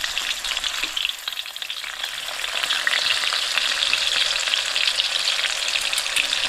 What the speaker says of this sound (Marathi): तर खालच्या साईडने फ्राय झालेत